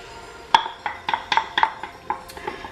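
Onion, garlic and Scotch bonnet go into a pot for Ghana beef stew, with a run of about eight sharp metallic clinks and knocks of a utensil against the pot at an uneven rhythm.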